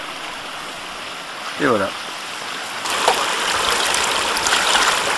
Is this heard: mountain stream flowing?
yes